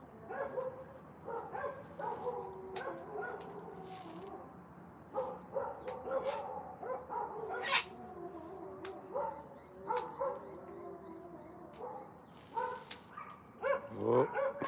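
A dog barks repeatedly in short irregular bursts, with some whimpering yips between, fairly close and moderately loud, no talking.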